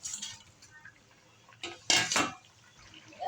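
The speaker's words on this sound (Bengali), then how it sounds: "এখন মাছগুলো দিয়ে দেবো।" Pieces of bata fish go into a pot of simmering fish curry broth, giving a brief clatter and splash about two seconds in, with light kitchen clinks around it.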